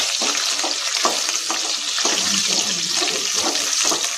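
Curry leaves for pongal tempering sizzle and crackle steadily in hot oil, a loud, continuous frying hiss with small popping spatters throughout.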